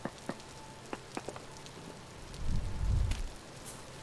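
Rain in the survival game Vintage Story forms a faint, steady patter with scattered drop taps, and a brief low rumble swells near the end.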